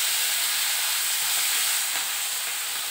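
Shrimp dropped into a hot pan of oil tempered with black cumin seeds for a mustard shrimp dish, giving a loud, steady hiss and sizzle of frying that carries on evenly without any talking.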